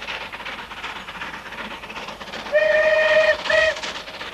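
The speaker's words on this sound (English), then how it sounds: "A lonely whistle in the wind recalls a multitude of memories for devotees of this railway in the hills." A steam locomotive on the Settle and Carlisle line gives a clear whistle, one long blast and then a short one. Rolling train noise runs steadily beneath it.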